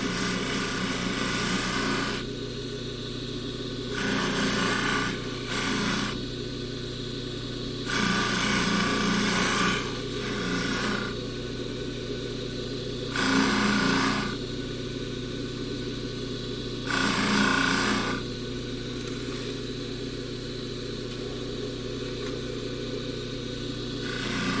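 A power tool whirs in repeated bursts as chain links are polished, each pass rising to a louder grinding rub over a constant motor hum, alone and close.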